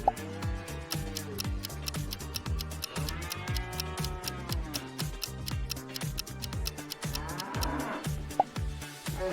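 Cows moo in a riddle animation, with drawn-out lowing calls over a steady rhythmic ticking music bed, fairly quiet throughout.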